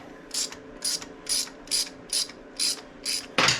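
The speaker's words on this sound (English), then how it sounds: "So, we're going to take out all these Allen screws. Takes a 3/16 Allen wrench." A 3/16 Allen wrench ratchets the cover screws free on a Harley Sportster during a stator replacement, making eight evenly spaced crisp clicking bursts about half a second apart, close and clear over a low background hum, the last one louder.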